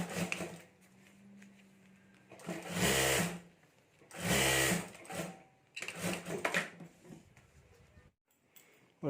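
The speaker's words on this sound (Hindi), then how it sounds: "तो यहाँ भी ऊपर में एक सिलाई कर देता हूँ।" A domestic sewing machine runs in three loud close bursts of rapid stitching across the top seam of a homemade clutch purse, with quiet handling and pauses between runs.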